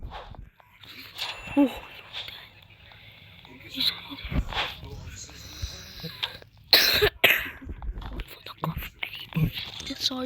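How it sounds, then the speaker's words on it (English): Coughing bursts from a man amid casual chatter during a game session, including a loud cluster of coughs near the middle, with whispery talk and mouth noises around it. "Sorry for the cough, mate."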